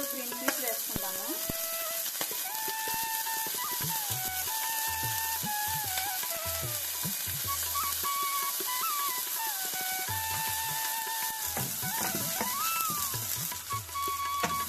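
Vegetables fry in a hot pan with a steady, close sizzle, and a spatula scrapes and stirs them at a busy, irregular pace. No one speaks over it.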